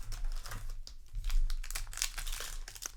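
A piece of paper, found among Magic: The Gathering cards from a Lord of the Rings booster, crinkles and rustles close up in quiet, irregular handling bursts.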